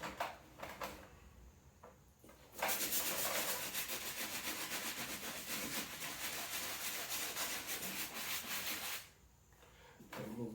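A soft bristle brush scrubs Jordan 11 sneakers in a cherry colorway during a restoration, producing a steady close rubbing swish that runs for several seconds after a few lighter strokes, then eases off.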